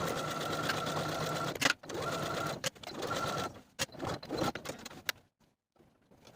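A sewing machine runs steadily, stitching princess seams on a vest from front and side front pieces, with a continuous motor whir broken by brief stops, then quieter short bursts toward the end.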